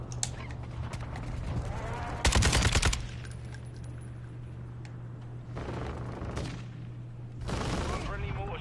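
A minigun fires in an online shooter game, with two or three bursts of rapid continuous gunfire, loud and close, separated by steady game ambience while players talk over voice chat.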